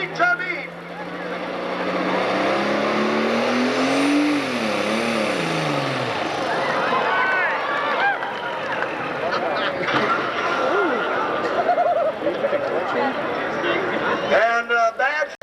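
A pulling tractor's engine rises in pitch and revs hard with a ragged flutter during a pull at a 1996 Freeport, Illinois tractor pulling event. It roars loudly and continuously, with a crowd or announcer voice mixed under it.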